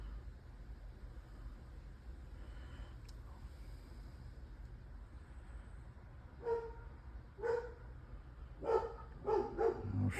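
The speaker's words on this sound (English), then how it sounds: "I am not dog friendly when they're just barking incessantly." A dog barking incessantly in the distance: a few faint, scattered barks at first, then a quicker cluster of yaps toward the end, heard over low background hum, with no talking.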